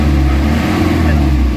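A repaired Isuzu Crosswind engine, an older model that had shaken and lacked pulling power, runs loud and close with a continuous deep throbbing rumble held at high revs throughout.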